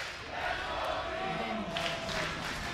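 Crowd in a Berlin studio chanting for the esports team G2 at the 2024 Worlds Swiss Stage, a steady massed roar of voices with rhythmic chanting that swells toward the end.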